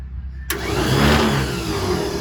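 An engine on an off-grid farm vehicle, choke pulled and key turned, cranks and catches after a short quiet pause, then runs loud and steady close by with a slight rev.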